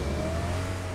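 Car engine in the video game BGMI, a steady droning motor with a slowly rising pitch as the vehicle pulls away, loud and continuous through the short moment.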